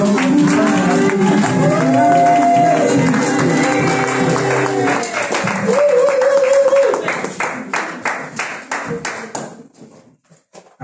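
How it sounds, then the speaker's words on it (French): A church congregation at a Sunday service claps rhythmically and cheers, with loud voices shouting over the beat that thins into sharp scattered claps near the end. "accueillir chaleureusement, avec des acclamations et des cris de joie"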